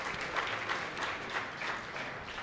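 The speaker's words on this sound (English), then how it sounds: "she deserves a round of applause" Applause at an awards gala, moderately quiet and steady, swelling slightly in waves over a couple of seconds.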